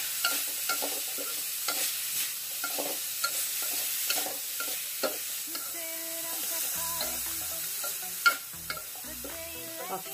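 Pumpkin shoots stir-fried with egg and minced pork in a pan, a steady close sizzle with repeated scraping stirs of the utensil throughout.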